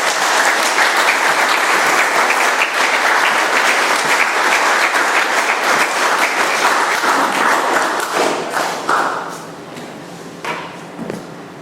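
Dense, loud applause from a room of attendees after a speaker's talk at an Alcoholics Anonymous meeting in Doylestown, Pennsylvania, holds steady and then thins out to a few scattered claps near the end.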